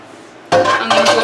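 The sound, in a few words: pouring one cup of water for teriyaki sauce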